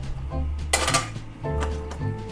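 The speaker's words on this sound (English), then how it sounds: "now we're gonna heat a heavy bottom skillet on medium heat." A heavy-bottomed skillet is set down on a kitchen stove, giving one sharp metallic clank in the middle over a steady tonal background, with no talking.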